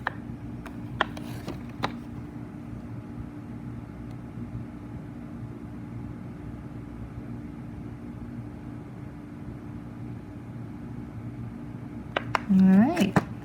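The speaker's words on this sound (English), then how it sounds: "And then here is the pocket winder one with the motor." A motorized Nagaoka pocket cassette tape rewinder runs with a faint, steady mechanical whir and a few soft clicks, with a person talking quietly over it and a louder click at the end.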